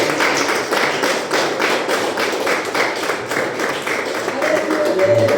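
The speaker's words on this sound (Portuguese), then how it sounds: "Pode bater as palmas bem agora, por Jesus." A church congregation claps together in a steady, rhythmic beat that carries through the whole stretch, with voices mixed in among the hands.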